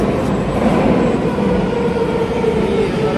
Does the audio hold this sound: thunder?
no